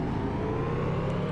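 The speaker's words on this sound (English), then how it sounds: "Now let's give it a couple of revs, see how it goes." A Honda Civic engine in the NR2003 racing game hums with a steady, moderately quiet synthetic drone, holding an even pitch for a little over a second with no other sounds.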